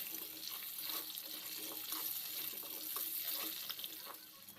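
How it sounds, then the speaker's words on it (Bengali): Long-cut potato pieces frying in oil in a pan, heard as a faint, steady hiss and crackle that carries on evenly, with no voices. "এখন আলুটাকেও তেলের মধ্যে আগে একটু ভেজে নিচ্ছি।"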